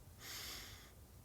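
A single breath drawn in during a calm breathing exercise, a soft airy inhale rising and holding for under a second before fading, close and quiet with no talk.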